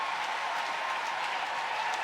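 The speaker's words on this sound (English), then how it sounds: "And this home crowd on their feet." Home crowd at a PWHL women's hockey game, Ottawa at Montreal, applauding and cheering late in regulation, a dense, steady roar of clapping and voices with no break.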